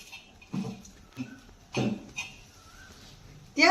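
A spoon scrapes and clinks in a bowl while Colgate toothpaste and salt are stirred together, a few short separate bursts with quiet gaps between them.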